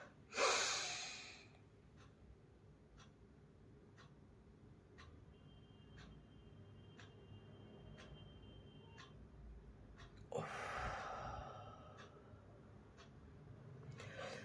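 A deep breath is drawn in and let out slowly, loud and close at the start and again near the end, with a faint regular ticking like a clock filling the quiet between.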